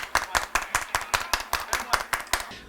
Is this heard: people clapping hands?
yes